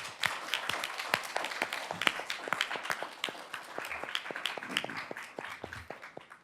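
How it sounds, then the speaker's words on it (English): Audience applause for a veterans panel in a hall, a dense, steady patter of many hands clapping close and loud throughout with no voices over it. "And I'd like everybody maybe give a round of applause."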